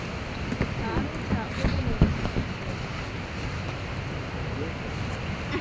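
Sea waves wash near a seaside house under gusty wind buffeting the microphone, a rough continuous rush with a few louder surges, and a voice is faintly present in the background.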